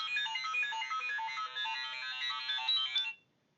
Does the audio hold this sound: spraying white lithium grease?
no